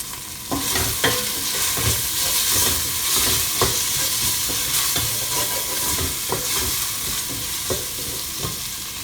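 Crab masala being sautéed with tomato, salt and turmeric powder in a pan, a steady sizzle with repeated scraping stir strokes throughout, close and fairly loud, no talking.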